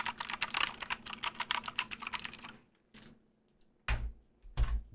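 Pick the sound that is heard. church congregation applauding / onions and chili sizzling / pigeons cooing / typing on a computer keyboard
typing on a computer keyboard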